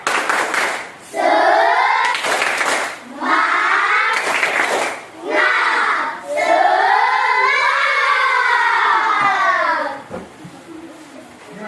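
A group of children chants loudly in unison, broken by a few sharp bursts of clapping together, close by.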